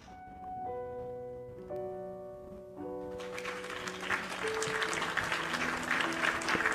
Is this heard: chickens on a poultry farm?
no